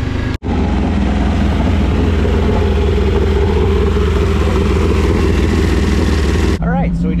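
Winged sprint car engines run at a dirt track, making a loud, steady, throaty roar that holds for several seconds after a brief dropout. At the very end the engines cut away and a voice speaks.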